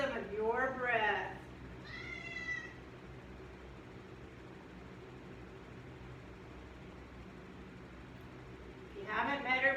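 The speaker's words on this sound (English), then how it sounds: "this is my cat, Annie." A house cat meows twice near the start with drawn-out wavering cries, then falls quiet over low room hum before another meow near the end, with speech-like sounds around the calls.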